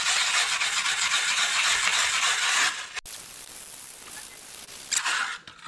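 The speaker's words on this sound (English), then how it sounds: "I'm just stripping this down to bare metal now." Harsh continuous scrubbing as an antique license plate for a 1965 or 1961 VW Beetle is stripped to bare metal, loud and close at first, then softer rubbing.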